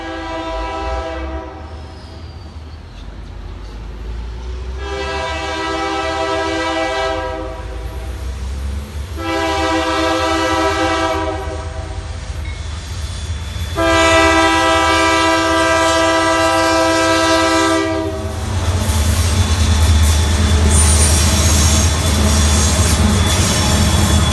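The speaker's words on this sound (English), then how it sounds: "we accidentally came across the counterpart intermodal train" An intermodal freight train rumbles past nearby with loud, repeated horn blasts in long bursts over steady wheel and car noise.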